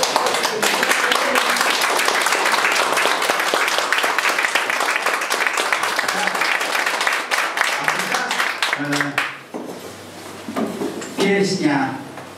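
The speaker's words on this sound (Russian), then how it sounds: "Давайте все встанем, похлопаем." A seated audience at an 85th jubilee celebration applauds loudly and steadily, dense clapping filling the room for about nine seconds before it thins out into scattered claps and voices.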